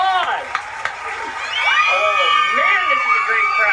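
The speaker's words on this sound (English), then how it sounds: "Please, give them a round of applause." Children in a crowd cheer and shout loudly, with rising and falling squeals and whoops layered over one another, lively and close, while voices call out continuously.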